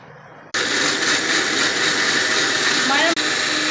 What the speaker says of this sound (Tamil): கொஞ்சம் ஊற்றணும், கட்டியாக இருக்குது அரைக்கிறது.